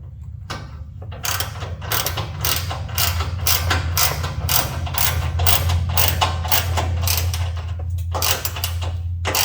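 A ratchet wrench tightens the front skid plate bolts on a Toyota Tacoma SR5 pickup. A rapid, regular run of close metallic ratchet clicks continues almost without pause, with no talking.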